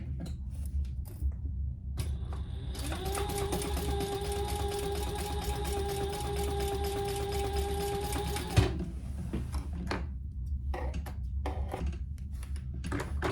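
A sewing machine stitches a quarter-inch dart seam on a fabric bowl koozie, running in one steady whirring burst of about six seconds between quiet handling clicks and rustles.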